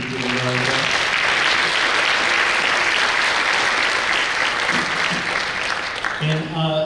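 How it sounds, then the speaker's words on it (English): Round of applause from a school spring band concert audience, loud, dense and continuous clapping for several seconds, with a voice speaking briefly at the start and end. "we can give him a round of applause"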